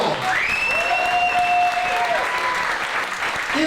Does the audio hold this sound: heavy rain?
no